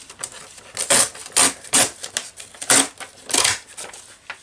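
Paper map torn against a hacksaw blade in a run of short, sharp ripping bursts, close and crisp, with brief pauses between pulls.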